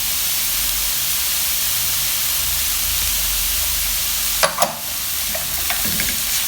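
Grated radish with spices frying in a pan, a steady soft sizzle throughout with a few brief stirring clinks and scrapes near the end.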